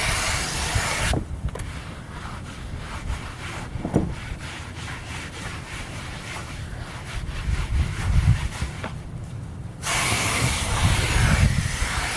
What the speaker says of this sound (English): I am going to spray some degreaser on these covers.